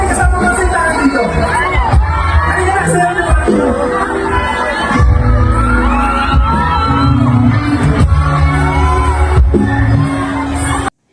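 A large crowd at the Sinulog festival in Kabankalan City screams and cheers loudly and without a break during an on-stage performance by a singing duo, with whoops and shouting voices throughout.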